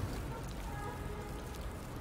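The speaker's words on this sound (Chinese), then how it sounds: "天要下雨，店要关门" Rain falls steadily on a roadside street food stall, a dense, even hiss of drops on surfaces that holds at a constant level throughout.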